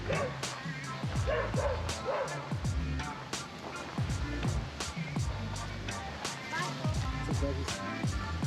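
Dogs bark and yip repeatedly in a busy park in Mexico City, with whimpers between the barks. People talk throughout, and distant traffic hums underneath.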